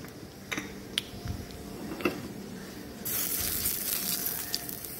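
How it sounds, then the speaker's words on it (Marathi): Chilli powder and cumin tadka hits hot oil in a pan for dry brinjal bhaji. After a few faint clicks, a soft hiss swells into a steady, quiet sizzle. "याला तिखटाचा तडका छानपैकी बसतो"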